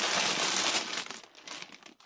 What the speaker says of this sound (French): Pardon pour le bruit des papiers.